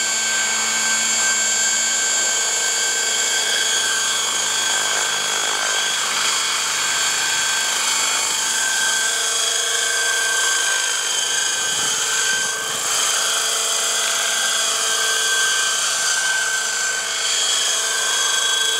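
A Hirobo EC120 radio-controlled helicopter converted to electric power whines steadily in flight, a high, tonal motor and rotor hum with buzzing harmonics that stays loud and close for the whole stretch, with a brief dip midway.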